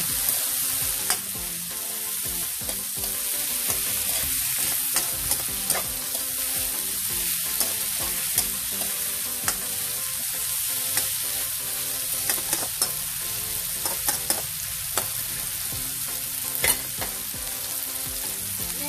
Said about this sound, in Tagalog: Isusunod natin ang ampalaya. At igisa rin natin ito mabuti.